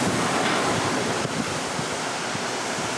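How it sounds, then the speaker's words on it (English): Storm surge waves from Hurricane Ivan crash over the deck of a house, a loud, continuous roar of surf and wind with churning water rising and falling throughout, no speech. "The bottom floor, the waves are crashing over the deck."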